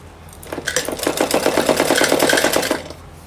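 A sewing machine stitches a four-panel salwar in a fast, steady run of rhythmic needle bursts lasting about two seconds, close and fairly loud, starting and stopping cleanly with no talking.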